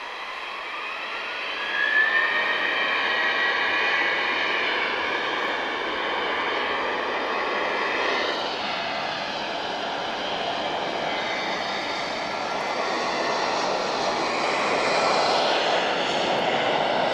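An airplane departs a runway at Lisbon Airport, a broad, steady engine roar heard from a distance, swelling slightly and holding for the full length with no voices.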